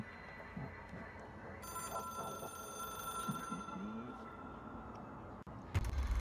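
A telephone ringing inside the video game Control, a steady electronic ring tone over low ambient hum, cut by a sharp thump near the end.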